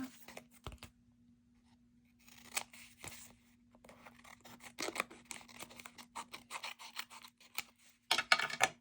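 Scissors snip through recycled paper cards in quick, irregular cuts with crisp crunches and rustling, close up and fairly quiet, with short pauses between bursts.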